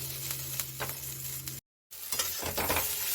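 Spicy semolina (suji) being stirred in a pan over low heat after water is added, with a steady soft sizzle and scraping spoon strokes at close range and a brief silent gap midway.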